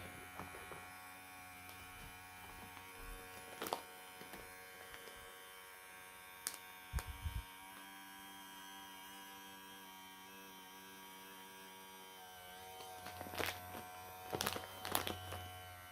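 USB electric pump suctioning air from a vacuum storage bag, a faint steady electric hum and buzz running throughout, with a few soft handling clicks and rustles over it.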